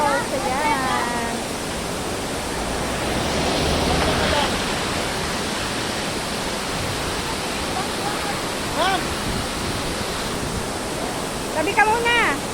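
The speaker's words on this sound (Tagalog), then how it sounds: "Napaganda po ng falls." Waterfall at Pagudpud roaring as a dense, steady broadband rush, loud and constant throughout, with people chatting and calling out over it.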